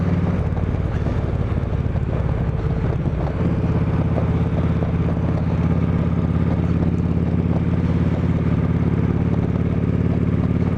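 A Kawasaki Vulcan Vaquero cruiser motorcycle rides on an open road, its steady engine drone mixed with loud, constant wind buffeting the microphone, with a shift to a deeper, fuller engine tone a few seconds in.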